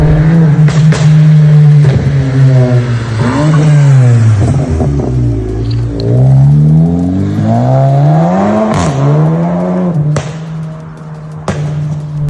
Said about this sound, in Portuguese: na hora da troca de marcha, dá um estalo e ele continua o ronco